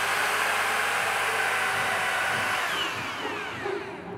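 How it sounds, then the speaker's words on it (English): A power drill bores a test hole into floor screed with a loud, steady whirring grind that fades as it slows near the end, with no talking. "now we're going to drill a quick hole here, and we're going to just test a little bit deeper into the screen"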